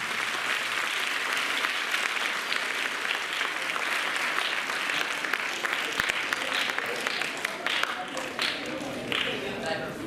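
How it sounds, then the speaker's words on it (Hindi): Applause for the first-prize winner at a Haryana state dance competition: a long, steady wash of crowd clapping with scattered sharper claps, fairly distant, with an announcer's voice and crowd sounds mixed in. "एक बार फिर जोरदार तालियां"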